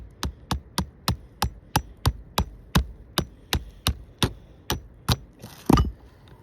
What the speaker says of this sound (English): So we gotta use the hammer to tap it.